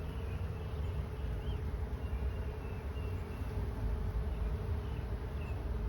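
Dense, steady buzzing of many honeybees on a comb during an inspection of a small swarm's hive, close and continuous with no talk.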